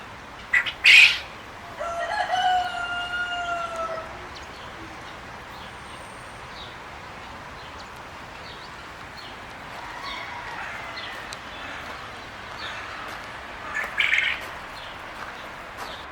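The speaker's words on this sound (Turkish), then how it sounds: "Yavrular var burada. Bıldırcın." Quail chicks in the outdoor grounds of Istanbul's Dolmabahçe Palace give scattered faint, high chirps in short bursts, with a few louder calls near the start and near the end over steady outdoor background noise.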